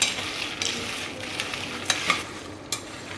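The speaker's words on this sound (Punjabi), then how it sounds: "ਸਾਰੇ ਮਸਾਲਿਆਂ ਨੂੰ ਆਪਾਂ ਰੋਸਟ ਕਰ ਲਿੱਤਾ ਹੈ" Whole garam masala spices are dry roasted in a pan, giving a soft continuous rustle and faint sizzle as they are stirred, with a few light scrapes standing out.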